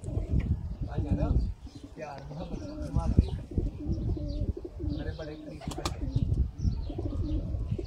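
Sialkoti pigeons coo in soft, repeated low calls at close range, heard under and between steady nearby talking.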